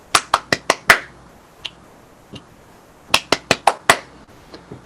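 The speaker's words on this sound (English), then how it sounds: "So I'll just clap out a rhythm." Hands clap out a drum rhythm in two quick bursts of five sharp, close claps, with a few softer isolated claps between and after, in a quiet room.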